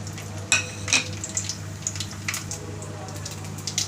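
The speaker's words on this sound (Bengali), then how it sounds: "তেলটা গরম হয়ে গেছে, এর মধ্যে ফোড়ন হিসেবে দিয়ে দেবো শুকনো লঙ্কা আর গোটা জিরে।" Dried red chillies and whole cumin seeds are dropped into hot white cooking oil: brief crackling pops and sharp clinks of a utensil against the pan over a low, steady hum.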